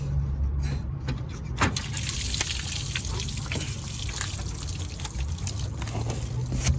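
Water trickles and splashes steadily from a disconnected radiator hose on a 2005 Honda Civic 1.7, a continuous close gurgling drain with faint clinks from the work area.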